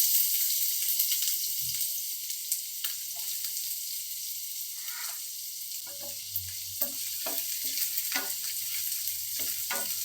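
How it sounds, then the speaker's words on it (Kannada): Mustard seeds and chopped onion fry in hot oil in a pan while making aloo bonda, a constant bright sizzle with occasional stirring scrapes and light pops, heard up close. "ಈಗ ಅರ್ಧ ಟೇಬಲ್ ಸ್ಪೂನಷ್ಟು ಸಾಸಿವೆ ಹಾಕ್ತಿದ್ದೀನಿ ಈಗ ಈರುಳ್ಳಿ ಹಾಕ್ತಾ ಇದ್ದೀನಿ"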